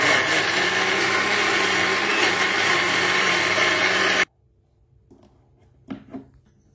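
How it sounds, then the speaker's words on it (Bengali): Loud, steady whirring roar of a kitchen mixer grinder blending tomato, cumin, green chili and whole spices into paste, running continuously and then stopping abruptly, followed by quiet with a couple of faint knocks. "প্রথমে মিক্সিতে বাটনাগুলো বেটে নিব।"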